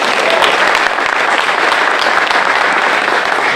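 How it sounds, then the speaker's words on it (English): An audience applauds Dr. Dukes at the grand opening of a community college culinary arts center, giving a loud, steady burst of clapping that fills the room without pause. "Let's give her a round of applause."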